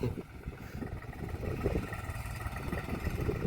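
A Swaraj tractor engine chugs steadily at close range, a rough, continuous rumble with slight rises in intensity.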